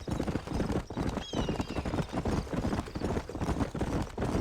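A horse in Red Dead Redemption gallops with rapid rhythmic clip-clop hoofbeats and a brief whinny, close and continuous over the whole stretch.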